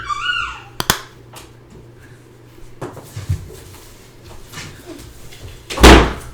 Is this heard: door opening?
yes